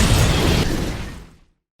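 A loud, close explosion at an apartment building in a film, a broad roaring burst that fills the clip and then trails off to silence after about a second and a half.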